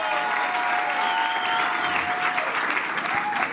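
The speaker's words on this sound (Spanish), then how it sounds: "un aplauso fuerte" A crowd at a stand-up comedy show applauds loudly and continuously, dense clapping with a few cheers and a faint ringing tone running underneath.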